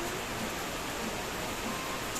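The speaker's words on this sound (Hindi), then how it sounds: "ये देखो कितनी तेज़ बारिश हो रही है" Heavy rain falls outside as a dense, steady hiss of broadband noise, constant and moderately loud throughout, with no voices.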